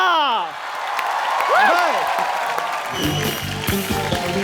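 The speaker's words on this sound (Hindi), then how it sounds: "एक बार गोविंदा सर के लिए जोरदार तालियां।" A studio comedy audience applauds and cheers to welcome Govinda, loud sustained clapping with whoops, while music plays and swells near the end.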